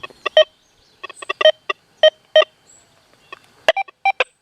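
Short electronic beeps and chirps from a Deus metal detector, audio response at 7 and sensitivity 95 in park program, come in irregular clusters, sharp and clear against near silence.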